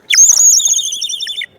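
A bright, warbling bird-like whistle from a water-filled ceramic bird whistle trills steadily for over a second, close and loud, then cuts off.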